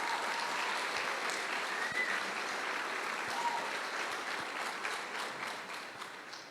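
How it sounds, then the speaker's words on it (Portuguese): Congregation in church applauding an elderly lady, a sustained even roar of clapping from many people that holds steady for several seconds and fades gently at the end, heard from a distance. "Uma salva de palmas para essa senhorinha"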